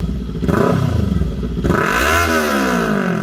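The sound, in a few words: sport motorcycle engine revving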